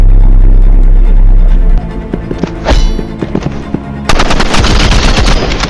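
Automatic gunfire rattles in the Roblox Rivals video game, loud rapid bursts of shots with thumps, first sparse and then a dense continuous volley in the final seconds.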